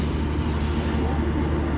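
The Nilsagar Express sits at Ahsanganj railway station, its heavy engine rumble and low mechanical drone steady and close throughout a short stretch.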